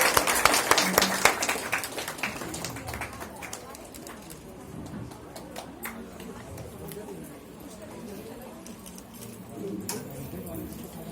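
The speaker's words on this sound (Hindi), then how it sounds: "रावेंद्र भैया जी के लिए जोरदार तालियों से स्वागत किया जाए" Audience clapping to welcome a speaker, Ravindra Gautam, at a public gathering: a dense burst of applause at the start that thins into scattered claps and fades, with voices over the hall.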